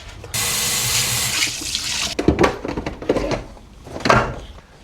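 Water runs from a tap into a sink as a coffee machine's milk jug is rinsed out, a steady broadband rush for about two seconds, then breaking into irregular splashes and clatters as the jug is swirled and handled.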